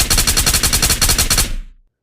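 Full-auto FAL rifle fire in the Ghost of Tabor game, a loud, close burst of roughly fifteen rapid, evenly spaced shots lasting about a second and a half, then a short fading tail.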